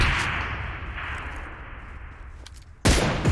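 Rockets from an M202 quad rocket launcher in PUBG Mobile, a long roaring whoosh fading over a few seconds before a sharp loud blast near the end.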